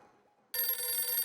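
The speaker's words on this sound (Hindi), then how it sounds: "ओहो, अभी सोडी का फोन।" A telephone bell breaks out in a loud, bright electronic trill after a brief quiet stretch and rings steadily to the end, with nothing else heard over it.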